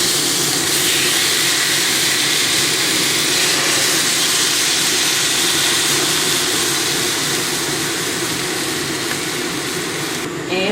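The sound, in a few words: marinated flank steak frying in a cast iron skillet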